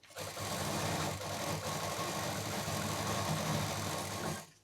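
Nearby, a sewing machine hums steadily for several seconds as it stitches the lining of a party purse from the back side, then stops abruptly at the end.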